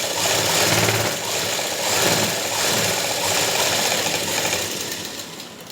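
A sewing machine stitches a seam on a pair of straight pants, running in a steady, close mechanical whir with faint rhythmic pulsing, tapering off at the end.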